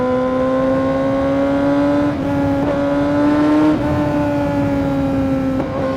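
A motorcycle with a costly aftermarket exhaust holds a loud, close, buzzing drone with strong harmonics. The pitch dips and rises slightly a few times, with no pops or bangs and no talk.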